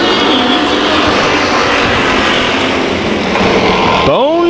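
Hobby stock race cars pack the track at the start of a heat race, producing a loud dense roar of engines with rising revs near the end.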